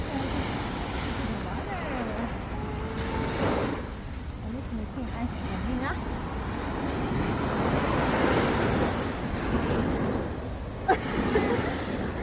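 Ocean surf washes steadily onto a beach in Singapore, a continuous rushing wash with wind buffeting the microphone, while adults talk nearby in Filipino over the water sounds.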